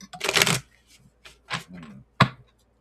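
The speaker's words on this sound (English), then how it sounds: "Shuffle, shuffle, shuffle, shuffle, shuffle, shuffle, shuffle, shuffle." A deck of tarot cards being shuffled up close, several separate riffling bursts with short pauses between them and a last sharp snap near the end.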